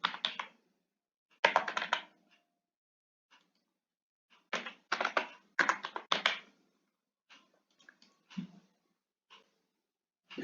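Fingers tap out a captcha code on a computer keyboard in quick clustered bursts of crisp keystrokes, separated by pauses and scattered single taps, with no one talking.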